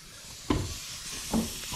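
Water sprays from a leaking half-inch pipe in a 12-unit apartment building, a steady broadband hiss broken by a few brief, louder bursts.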